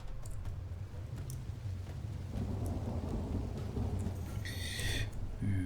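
Rain and rolling thunder in a Rajput campaign strategy video game, a steady wash of rainfall with low rumbling throughout and a bright crackling burst near the end, with no talk.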